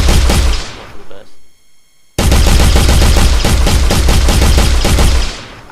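Rapid automatic gunfire from an Unreal Engine 4 game, loud and dense, with a brief burst, a short lull, then a long sustained volley of fast repeating shots.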